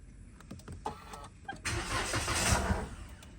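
A Perodua Bezza car with a loud engine noise problem is push-started: a few clicks and a short cranking whir, then the engine catches and runs close and fairly loud.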